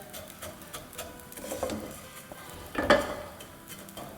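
Edible gum (gond) frying in a pan, with soft crackling and sizzling plus a few sharper pops as the grains puff up.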